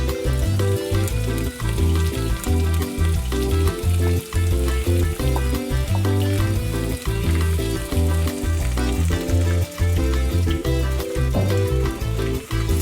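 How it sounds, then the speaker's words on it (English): Sliced onions frying in a pan for browning, with a loud, steady sizzle throughout and regular scraping from a spoon as they are stirred. "So I'll be adding most of the onions because I need to brown them"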